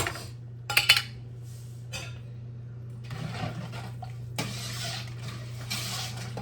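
A spoon works through tomato-based vegetable soup with corn and green beans in a pot, making a few sharp metal clinks against the pot followed by scraping and soft sloshing bursts over a low steady hum.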